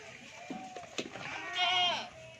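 Goats bleating at a livestock sale of Rajanpuri goats, several wavering calls overlapping, including one long, loud bleat near the end, with faint background noise.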